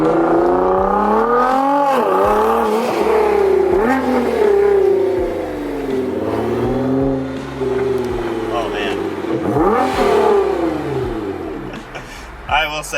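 Straight-piped exhaust of a Nissan GT-R R35 revving hard beside a wall, repeated rising and falling blasts with a raspy roar, loud and close throughout the clip.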